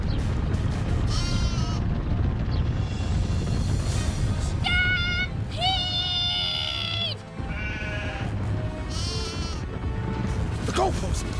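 Sheep bleat repeatedly in a cartoon farm scene, wavering calls overlapping one another amid a busy background, with talking voices mixed in.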